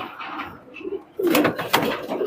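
Pet highflyer pigeons, Teddy Golden kobutar, cooing in a loft, soft low coos starting quietly and then a louder stretch with handling noise and rustling close by.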